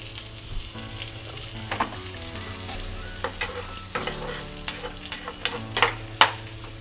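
Tomatoes tipped onto softened onions in a pan for gongura dried prawn curry, frying with a steady sizzle as a spoon scrapes and stirs in repeated clicks that grow sharper toward the end, with no voices.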